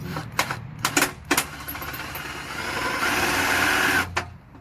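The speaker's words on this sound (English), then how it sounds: "let's go ahead and see if we can nib out a straight line without it going all crazy" A cheap handheld sheet metal nibbler chews a straight line through sheet metal, starting with a few sharp stuttering bursts before settling into a continuous rattling cut, close and moderately loud.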